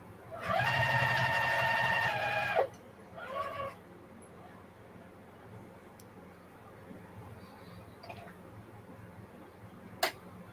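A sewing machine stitches a lunch box in one loud, steady whirring run of about two and a half seconds, then a short second burst, followed by quiet room noise with a few faint clicks.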